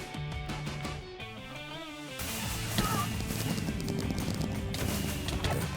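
Rapid hoofbeats of a galloping horse in Minecraft amid a dense, loud game soundscape with music and clashing effects, continuous throughout.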